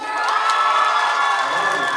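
A school assembly crowd cheers and whoops loudly and continuously, with children's high shouts blending into a dense roar that holds steady throughout.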